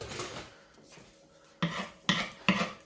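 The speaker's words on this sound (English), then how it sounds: "Yep, mix that butter in." A spatula works butter in a pan or dish, three sharp scraping clatters of utensil on cookware following a quieter stretch of faint rubbing, with no talking.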